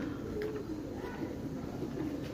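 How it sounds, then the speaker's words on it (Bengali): A pigeon's soft, low cooing repeats a few times, fairly quiet and near, over a faint background hum. "একটা কবুতর আইছে"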